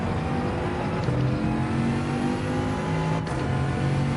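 A Bugatti race car engine in Gran Turismo 7 drones and revs continuously at high pitch, steady and close, with a brief shift in tone like a gear change, no voices.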